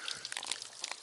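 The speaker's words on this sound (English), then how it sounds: "Waterfall, it's" Water rushing down a small waterfall in an urban park, a steady, broad splashing wash that stays at an even, fairly close level throughout with no talk over it.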